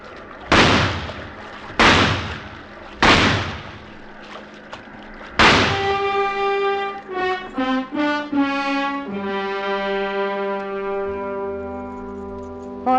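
Sound-effect gunshots in a radio drama: three sharp, loud blasts about a second apart, then a fourth that rings out into sustained musical tones.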